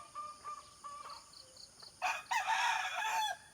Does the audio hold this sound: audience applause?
no